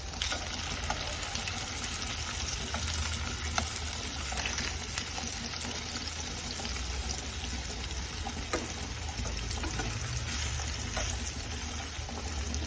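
Vanjeera fish fries in a pan with a dense, steady sizzle that stays loud and even throughout, with faint scraping as the pieces are turned.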